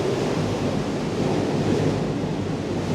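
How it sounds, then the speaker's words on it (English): Strong storm wind buffets an exposed spot on Lundy Island, a loud, steady roar of broadband rushing noise with heavy low rumble from gusts hitting the microphone, continuous for the whole stretch with no voices. "The wind is so strong right now."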